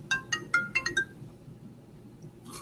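A phone ringtone chirps in a custom vehicle-wrap graphic design workspace: a quick run of bright, repeated electronic tones over the first second, then a quiet room hum with a faint stir at the end.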